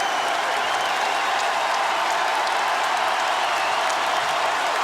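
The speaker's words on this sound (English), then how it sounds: "The crowd and the crescendo rise at Assembly Hall" Dense, steady roar of a basketball crowd cheering inside Assembly Hall during a Michigan State at Indiana game, a continuous loud wash of voices and clapping with no pauses, close and enveloping throughout.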